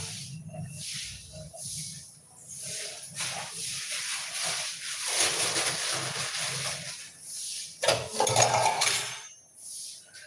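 A metal wok set on a stove clanks and scrapes, then sesame oil and fennel seeds hit the hot pan with a soft hiss and crackle, with intermittent utensil clinks and no talk.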